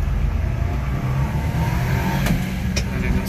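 Honda Acty HA4 mini truck engine pulling steadily in first gear, a continuous close droning hum with road noise and a couple of faint clicks.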